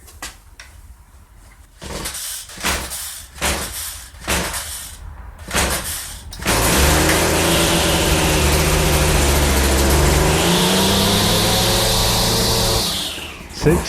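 Stihl FS 56 RC string trimmer on full choke: several pull-cord yanks with rattling strokes, then the small two-stroke engine catches and runs loudly and steadily, rising in pitch before easing off near the end.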